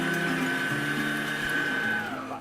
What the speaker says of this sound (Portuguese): fica difícil da batedeira bater esse pão